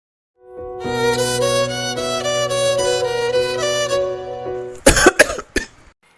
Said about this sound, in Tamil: என்னத்த நீங்க இப்படி இருமுறீங்க